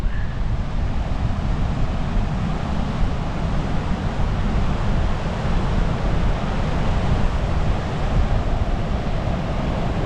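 Sea waves break and wash continuously on a narrow Normandy beach at high tide on a windy, dull day, a steady loud roar of surf mixed with rumbling wind buffeting the microphone, with no voices.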